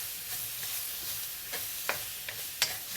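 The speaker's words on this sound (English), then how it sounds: "Add in 4 cloves of garlic chopped and fry them until fragrant." Unsalted butter and chopped garlic cloves frying in a pan give a soft, steady sizzle, with a few light scrapes from stirring near the end.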